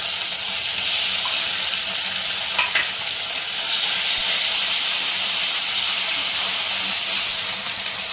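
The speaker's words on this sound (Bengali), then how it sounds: "পেঁয়াজটা আমার এই দেখুন একটু হালকা লাল হয়ে গেছে খুব বেশি ভাজবো না" Onion fries in a pan with ginger and chilli for ghugni, giving a loud, continuous close sizzle with occasional stirring scrapes and no talking.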